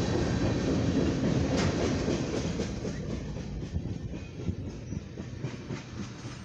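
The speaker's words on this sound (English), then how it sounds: "Got an eastbound Norfolk Southern train." An eastbound Norfolk Southern mixed freight train passes close by with a loud, continuous rumble and a rattle of wheels over rail joints. The sound eases slightly toward the end.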